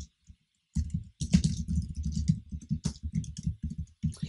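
Someone types code on a computer keyboard, with a steady run of close, crisp keystrokes after a brief quiet start. There is no talking over the typing.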